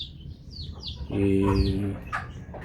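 Laying hens in a farm pen let out soft chirps, then a louder drawn-out squawking cluck in the middle, with scattered peeps around it, fairly close.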